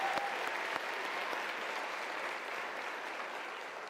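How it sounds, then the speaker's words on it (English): A large graduation ceremony audience applauds in a dense, even wash of clapping that holds steady for several seconds and slowly eases off. "Let's give them the last round of applause, ladies and gentlemen"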